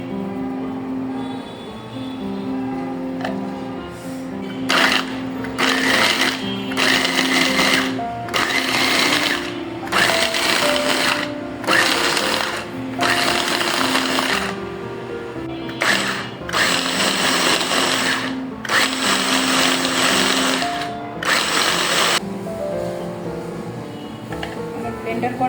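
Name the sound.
blender grinding fried gram flour pieces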